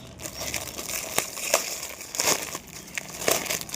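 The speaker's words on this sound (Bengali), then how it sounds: "তো এই যে আনপ্যাক করি এবার" A red-bordered saree being unpacked from crinkly plastic packaging, close rustling and crumpling with sharp crackles coming in irregular bursts, nearby and fairly loud, with no one speaking.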